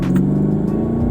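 A powerful 2020 BMW M5 engine rumbles and revs, its deep tone climbing steadily as it accelerates, loud and close throughout the short burst.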